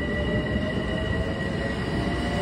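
Long Island Rail Road train rolling past near Hicksville, a steady loud rumble of wheels and cars with faint high squealing tones, continuous throughout with no talk.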